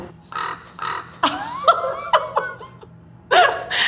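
Crows caw in short harsh bursts, mixed with what sounds like a person laughing or imitating the calls nearby.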